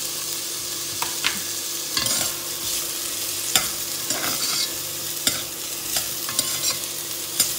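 Garlic sizzles in a hot pan as it goes in, a steady frying hiss broken by sharp clinks and scrapes of stirring, fairly close and alone with no talk.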